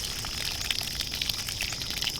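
Compost tea poured from a bucket onto the top side of a slight hill of soil, a steady watery gush with small splashy bursts, close and continuous.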